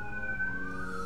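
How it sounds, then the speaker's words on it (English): Emergency vehicle siren sounds as it passes along a road outside in Shreveport, a steady wailing tone gliding gradually downward, moderately distant and continuous through the short moment with no talking. "sirens coming down the road if y'all can hear that."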